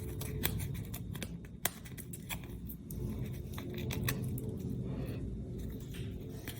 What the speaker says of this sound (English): peel back our dimensionals here